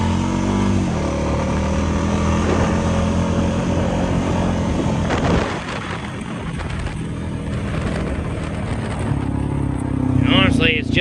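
A Honda DCT motorcycle rides trails in low range, its engine droning steadily close up with shifting pitch, and a rider speaks over it for most of the stretch.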